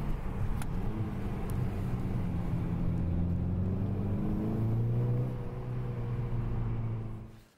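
A Kia Cee'd GT climbing uphill through tight corners on a very narrow road, its engine giving a steady, close drone with gently rising and falling pitch before fading out at the end.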